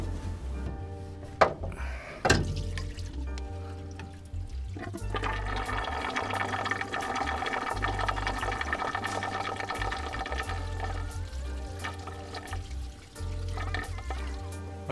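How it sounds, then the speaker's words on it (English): Chemical flush fluid drains out of the disconnected bottom hose of an MG Midget's cooling system, a steady close-up splashing and trickling wash that runs continuously for most of the stretch, broken by a couple of sharp knocks near the start. "that is the chemical flush draining"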